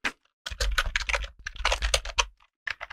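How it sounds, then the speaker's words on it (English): Rapid typing on a computer keyboard, close and crisp, with dense bursts of clacking keys broken by brief pauses. "this keyboard is not the best that we have in the studio"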